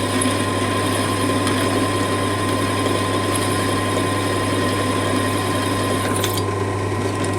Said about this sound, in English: I'm only drilling a pilot hole.